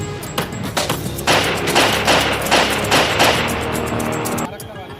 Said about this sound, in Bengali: তারপর সিগন্যালের কাছে গাড়ির গতি কমতেই এলো পাথারি গুলি।